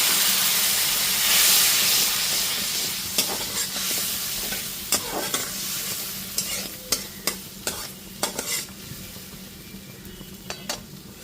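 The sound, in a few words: spice paste with turmeric and chilli being stir-fried with water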